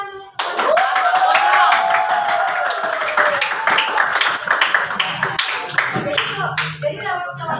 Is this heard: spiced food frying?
no